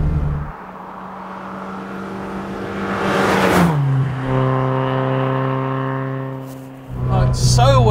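A Type 14 Lotus Elite sports car driving on a country road, its engine droning steadily up close with a brief rise in revs and a shift in pitch midway, accompanied by talk throughout.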